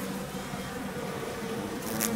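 Yellow hornets and Japanese honeybees buzz at the hive, a dense continuous droning hum that holds steady and swells slightly toward the end.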